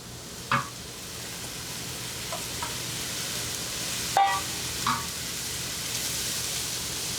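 Vegetables and bell pepper fry in a hot pan with a soft, steady sizzle punctuated by several spatula taps and one sharp clank; no one speaks.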